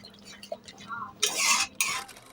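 A spatula works chicken bharta around a pan: a few light clinks, then two loud, rough scraping bursts up close.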